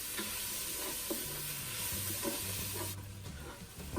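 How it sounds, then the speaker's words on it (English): Butter melting in a Ninja Foodi pot with browned onions gives a steady close sizzle and crackle, with faint stirring scrapes, running alone throughout and easing slightly near the end. "let's drop in a half a stick of butter."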